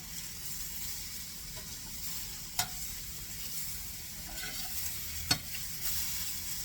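Beef stroganoff ingredients sizzling and toasting in a hot pan, a steady fine crackle broken by two sharp clinks of a utensil, with no talking.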